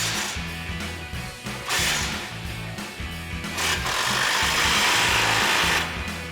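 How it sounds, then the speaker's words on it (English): An impact wrench with a 15 mm socket tightens exhaust clamps on a Ram 2500 Borla S-Type system, hammering in loud, rapid rattling bursts with short pauses between, close by and with no talking. "Then we're going to use a 15 mil socket, impact."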